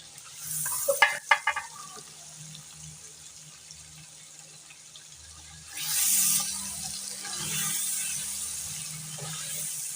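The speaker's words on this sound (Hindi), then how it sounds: "अच्छी तरह इसे 2 मिनट भून के" Tamarind paste being stirred and fried in a pan: a few sharp clatters of a spoon early on, then a rising sizzle with wet scraping that swells and carries on steadily to the end.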